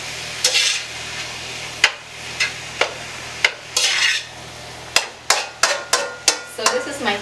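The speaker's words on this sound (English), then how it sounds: "I'm really gonna add the pork so it can start to cook too" Pork cooking in a pan with a low sizzle under repeated sharp clicks and scrapes of a utensil stirring against the pan, irregular at first and then coming in quicker bursts.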